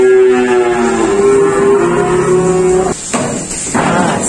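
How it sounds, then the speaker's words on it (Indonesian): Cattle, including a female Javanese cow, low close and loud at a livestock dealer's yard, with a sustained moo for about three seconds followed by shorter rough lowing sounds. "nih datang sapi Jawa betina"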